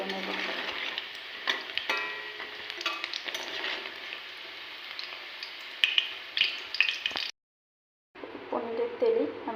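Paneer frying lightly in oil in a pan, a steady crackle and sizzle with occasional stirring clicks and scrapes, then a brief silence before sizzling resumes.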